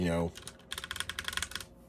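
Rapid, close clacking of keystrokes on a compact mechanical keyboard, a Razer Huntsman Mini or Ducky One 2 Mini, with an uneven rhythm following a brief moment of speech.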